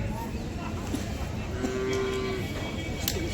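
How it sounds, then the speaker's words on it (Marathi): A large buffalo gives a low, drawn-out moo in the middle of the clip over a steady murmur of distant background noise at the Sangola buffalo market. "मोठ्या मापाची म्हैस आहे"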